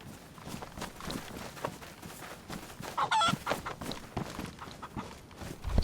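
Chicken in the survival video game DayZ clucking near the player, a few short clucks mixed with footsteps and background game noise, moderately close and fairly quiet.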